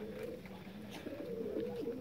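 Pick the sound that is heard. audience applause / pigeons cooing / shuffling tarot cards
pigeons cooing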